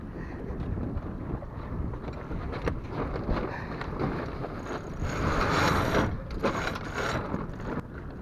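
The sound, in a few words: sailboat tacking, winch and rigging ratcheting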